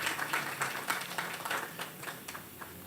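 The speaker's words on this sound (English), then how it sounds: "a round of applause." Polite clapping from an outdoor audience at a street-renaming ceremony, moderately faint and steady throughout.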